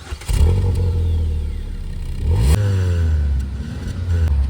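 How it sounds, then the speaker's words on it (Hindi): Steady, even exhaust hum from a 2017 Hyundai Grand i10 Sportz family car running near the mic, with a brief rise in engine note midway and a light clatter, no talk. "एग्जॉस्ट का साउंड"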